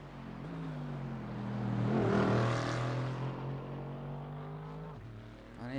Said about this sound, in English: Love the sound of that Aston Martin though. It's a lovely sounding car, especially the GT4.